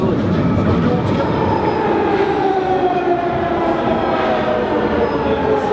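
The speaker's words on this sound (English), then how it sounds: "Night Tube Central Line out to Stratford" A London Underground Night Tube Central Line train runs out toward Stratford, a loud steady rumble and rattle of wheels and carriages throughout, with faint voices in the car beneath it.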